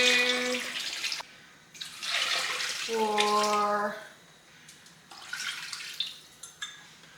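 Water pours from a tap into a small stew pot over vegetables, several bursts of rushing flow with a rising filling tone in one fill, separated by short pauses, close and moderately loud with a voice briefly counting.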